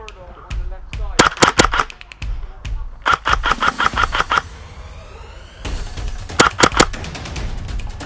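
Airsoft guns fire in a close-quarters game set in a mock Afghan village, with bursts of rapid sharp cracks and single shots coming in clusters at varying distances.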